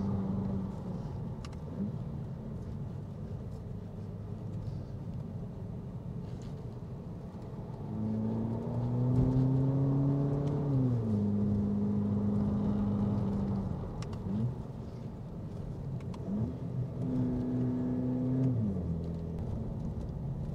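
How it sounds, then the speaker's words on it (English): A 2022 Volkswagen Polo GTI hot hatch drops a gear climbing a hill, its engine rising in a rumbling pull with audible pitch sweeps as it accelerates, heard from inside the cabin under a steady road hum. "drop a gear as we go up the hill."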